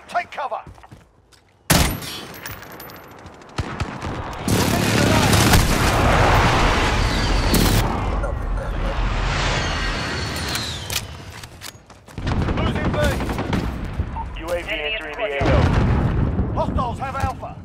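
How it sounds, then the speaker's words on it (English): An enemy precision airstrike in Call of Duty Modern Warfare, a sudden sharp blast followed by a long, roaring barrage of explosions and gunfire, loud and close, with brief quiet gaps and shouted game voices. "Enemy precision airstrike, take cover!"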